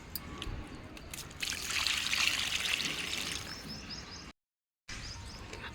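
Kitchen waste diluted in water is poured little by little onto garden plants, a steady close trickle and splash with brief louder gushes and a short silent gap.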